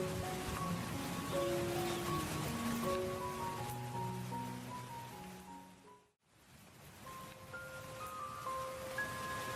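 Steady rain pours down under a layer of background music, with a brief dip to near silence partway through.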